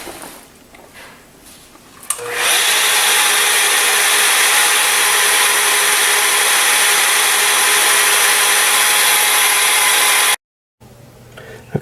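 A power polisher spins a blue number 4 Quartz Renew polishing pad across a quartz surface, a loud steady whine that starts suddenly, holds for about eight seconds, then cuts off.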